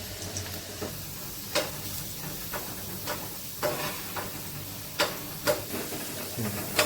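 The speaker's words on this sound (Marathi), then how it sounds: "सुरुवातीला आपण बटाटा फ्राय करून घेतोय." Potatoes frying in oil in a pan, a steady soft hiss and sizzle broken by irregular clicks and scrapes of stirring, with occasional faint voice.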